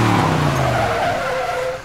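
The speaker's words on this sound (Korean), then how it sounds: "머스탱이 엄청난 배기음을 내뿜으며 달립니다." A Ford Mustang from a John Wick film drifts out of an airport hangar outside Brooklyn: a loud, continuous tire skid over a roaring engine for nearly two seconds, easing off at the end.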